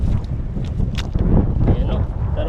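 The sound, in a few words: wind blowing by a river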